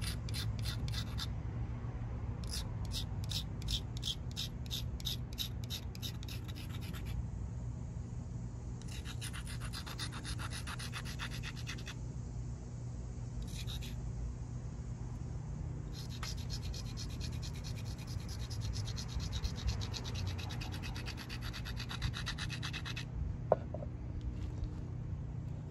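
Pressure flaking on a stone point with a pressure flaker, a close scratchy rasping that comes in repeated bursts of short strokes separated by pauses, over a steady low background hum.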